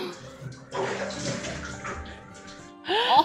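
Water runs and splashes in a home bathroom as someone washes, a steady rushing stream that swells louder partway through, with a short voice near the end.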